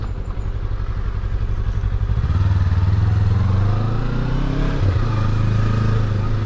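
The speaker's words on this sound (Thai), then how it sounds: "มอเตอร์ไซค์เราก็ไปเรื่อยๆ แบบนี้เลย" A Yamaha MT-03 motorcycle rides along with a steady engine drone that rises in pitch as it gets going, close and fairly loud, with a brief dip in revs near the end.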